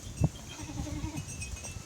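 A young mother goat with her kids on a farm, with a bleat-like call standing out early and softer livestock calls continuing faintly around it.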